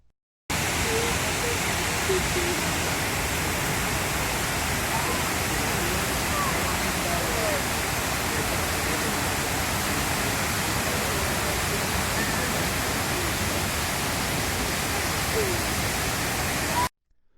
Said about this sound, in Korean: 끝없이 쏟아지는 이 폭포는 한없이 흘러내리는 눈물 같고, 이 폭포수 소리는 흐느끼는 울부짖음으로 느껴집니다.